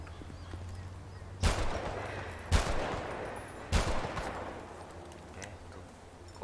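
Video game gunshots from a FiveM sound pack, combat pistol and AP pistol, fire as three loud, sharp cracks spaced about a second apart, each trailing into a brief echoing tail over a low background hum.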